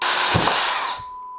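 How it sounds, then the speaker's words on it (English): A handheld power drill whines at high speed as it bores a hole, a loud continuous shrill buzz that cuts off and spins down after about a second. "Now, we drill a hole in there."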